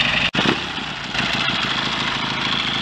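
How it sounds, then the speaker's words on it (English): Triton motorcycle engine running alone on a fast tick over, a steady, close, even drone with a brief dropout near the start and no voices. "here we are with this Triton running again"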